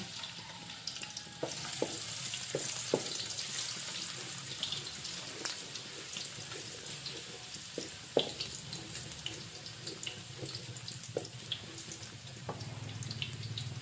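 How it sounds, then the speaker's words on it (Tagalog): Ginger sautés in cooking oil in a pan for laing, a faint, steady low sizzle with occasional soft clicks and utensil taps, heard at a quiet level with no talk. "Igisa na natin ang mga ricado nito. Unahin natin ang luya."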